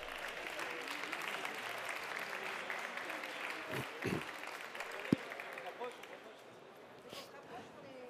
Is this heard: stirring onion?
no